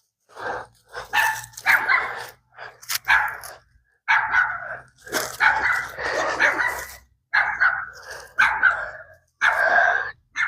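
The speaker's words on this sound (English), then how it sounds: "dogs are always barking" Dogs bark repeatedly in bursts, loud and close, with short gaps between volleys and a low hum underneath.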